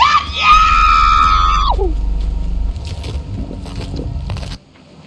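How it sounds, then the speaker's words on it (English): A person lets out a piercing, high-pitched scream during a Lethal Company v50 public beta session with a friend. The scream is sustained for over a second, then breaks off into loud, rumbling noise that fades out. "That was the most genuinely horrifying scream I've ever seen."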